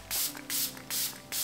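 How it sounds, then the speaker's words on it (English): Glow Milk seal-and-set mist sprayed onto a made-up face, three short, close, crisp hissing bursts evenly spaced, with quiet handling sounds between them. "I'm gonna give it a spray with the Emilia Olivia Glow Milk Mist Seal and Set Mist."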